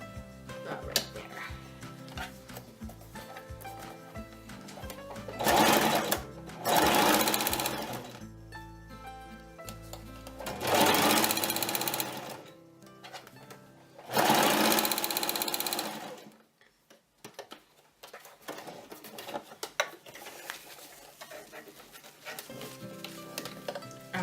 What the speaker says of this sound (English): Now, since this is going inside these, I'm sewing a little bit further in than I did on those.